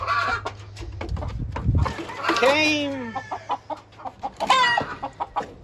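Gamefowl rooster in a strawed pen, clucking and giving a drawn-out call near at hand, with scattered short clucks and bird noises around it while a person talks.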